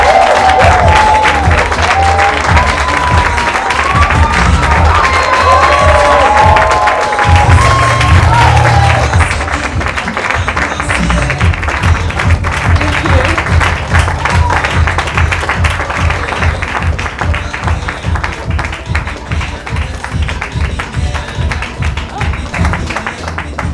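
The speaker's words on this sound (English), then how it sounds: "I can understand why you clapped so high" A television talk-show studio audience applauds loudly and steadily as actress Genevieve Nnaji makes her entrance, a dense wash of clapping and cheering that carries on for about twenty seconds with no talking over it.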